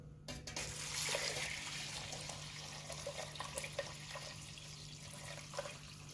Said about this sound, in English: And we'll get some water in here.